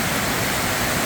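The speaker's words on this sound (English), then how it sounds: "That rain is just torrential." Torrential rain pours onto a flooded street in Manila, a dense, steady hiss-like roar that stays loud and unbroken throughout, with no voices.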